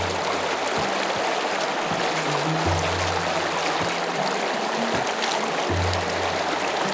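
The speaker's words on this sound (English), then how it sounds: "It's so inspiring to see these ancient water channels functioning to this day." Water running through the ancient Aflaj irrigation channels of Nizwa, Oman, a steady broadband rush and trickle heard close by, with faint low rumbling beneath and no talk.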